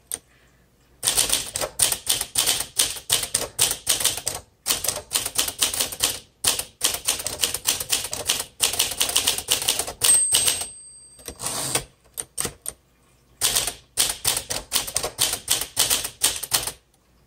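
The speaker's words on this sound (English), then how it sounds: "This is a great typewriter." Typing on a 1954 Smith Corona Silent Super manual typewriter: rapid bursts of crisp keystrokes broken by short pauses, with a ring of the margin bell near the middle. The typing is close and loud, with no talk.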